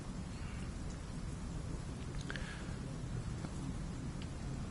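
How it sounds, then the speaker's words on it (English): Steady rain and rolling thunder ambience in a dark Gothic city in Bloodborne, a continuous dense wash of rainfall with low rumbling underneath, at an even level with no voices. "It's incredibly hard to hear amidst the rain, the thunder, just the ambient pressure"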